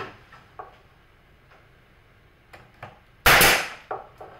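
Nail gun driving nails into the wooden side boards of a beehive box: one loud sharp shot close by, with a few faint ticks and knocks around it and no speech.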